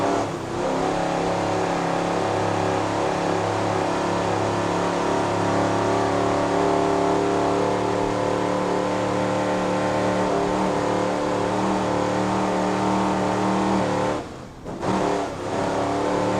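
Racing powerboat from Fountain running at full throttle, a loud sustained engine roar holding a steady pitch for most of its length before a brief dip near the end, no speech.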